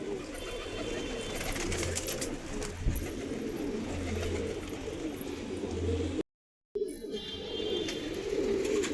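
Domestic pigeons kept by a hobbyist coo softly and repeatedly, low throaty calls close by and continuous under steady outdoor background noise, broken by a brief silent gap.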